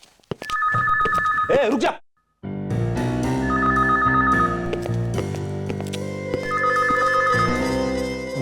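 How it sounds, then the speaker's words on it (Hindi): A telephone rings with a trilling electronic ringtone in repeated bursts, while a voice speaks briefly and music plays underneath. "मेरी वाइफ का फोन है।"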